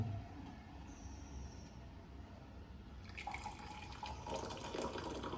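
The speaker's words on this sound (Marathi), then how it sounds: "ही थंड पाणी टाकलंय आपण" Cold water poured from a container into a glass already holding hot water and a spoonful of drink powder, a soft continuous pour that grows brighter and fuller toward the end.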